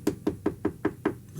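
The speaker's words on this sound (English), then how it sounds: "Morning comes quick to all of you with a knock at the door around 7 a.m." Six firm knocks on a door in a steady, evenly spaced rhythm, close and clear with no talking, a wake-up call around 7 a.m.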